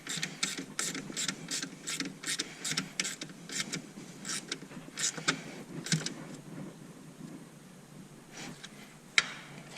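A ratchet tightens the B+ terminal nut on the 12V battery of a 2012–2014 Tesla Model S RWD, clicking in quick, steady bursts close by that slow and taper off toward the end.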